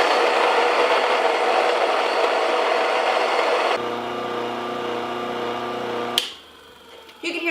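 A home grain mill grinds wheat berries into flour with a loud, steady whirring roar that drops to a lighter mechanical hum partway through, then briefly clatters before going much quieter as the grain runs out.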